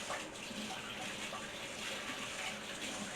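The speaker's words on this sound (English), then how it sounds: "Let me rinse my hands" Hands rinsed under a running kitchen tap, a steady, fairly quiet broadband wash of water pouring without pause throughout, with no talking.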